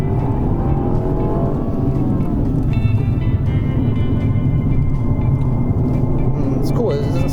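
A Mercedes-Benz C300 sedan drives hard along a winding touge mountain road, its engine droning loud and steady throughout with rising tonal whine, while people talk inside the cabin over the constant road and engine noise.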